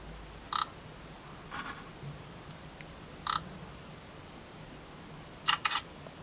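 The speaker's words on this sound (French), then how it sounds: "On va essayer avec le flash." A THL W3+ camera flash fires during a test, giving a few short, sharp clicks at near distance, one of them doubled, separated by quiet pauses.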